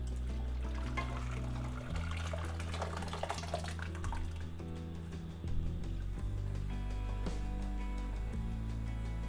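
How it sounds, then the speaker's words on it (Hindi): Cooked chana dal is poured into a sizzling tadka tempering, giving a continuous close wet pour and bubbling sizzle with brief splashy spikes throughout. "अब दाल को तड़के में डाल देते हैं।"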